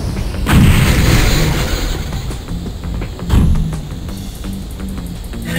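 A missile launch in a Sega Saturn video game brings two heavy booming blasts about three seconds apart, each falling away into a rumbling tail, with electronic game tones in the background.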